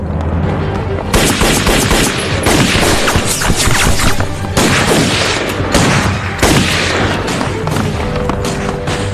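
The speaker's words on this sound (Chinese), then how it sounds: "枪声在那边" Loud, dense gunfire in a battle scene from an anti-Japanese war film, with rapid machine-gun bursts and overlapping shots rattling almost continuously for several seconds.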